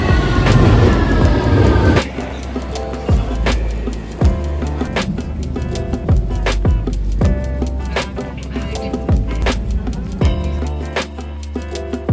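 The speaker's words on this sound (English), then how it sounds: "I've got to go catch the train to Brighton" A train rolls along the rails with a steady rumble and regular clickety-clack beats from the wheels passing over track joints.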